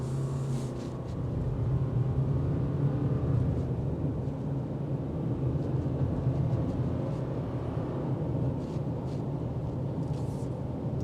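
A 2026 Subaru Forester Wilderness picks up speed on a test drive, its engine and road noise forming a steady, close, low rumble throughout with no talking.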